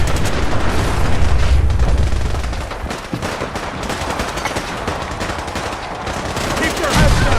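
Video-game gunfire in Fallout 4 with the Sim Settlements 2 mod: dense, continuous bursts of automatic weapon fire and booming shots fill the whole stretch, loud and close, with battle chatter faintly mixed beneath.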